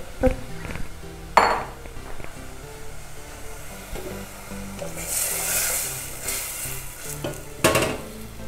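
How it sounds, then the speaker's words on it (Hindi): Ground tomato paste poured into very hot oil in a pan, sizzling and frying, with brief clinks of a spoon against the pot and a louder hiss swelling midway. "इसमें टमाटर चार टमाटर पीस लिए थे वो हम इसमें डाल देंगे एक्चुअली तेल बहुत ज़्यादा गर्म हो गया था"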